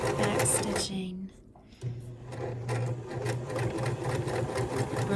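A sewing machine back-stitches quilt pieces, its needle chattering in a rapid, even rhythm close by, pausing briefly and then running again, while a person talks over it.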